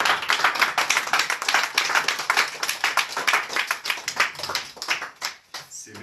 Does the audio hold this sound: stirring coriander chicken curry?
no